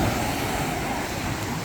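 Waves washing in at a beach with grassy weeds in the water, a steady loud broadband surf roar mixed with wind on the microphone, with no talk.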